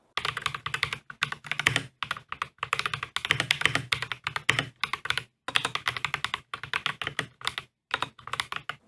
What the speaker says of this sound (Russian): А вот, кстати, стоковый тайпинг.